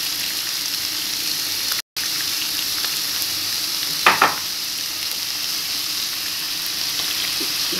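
Onion sizzles in hot oil in a pan with a steady, dense crackle, broken by a brief gap and a single louder scrape of stirring midway.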